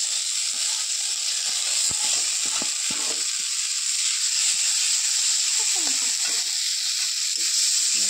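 Poha, flattened rice, fries in a pan with raisins and nuts, giving a steady close hiss and sizzle broken by scraping clicks as it is stirred, with no voice over it.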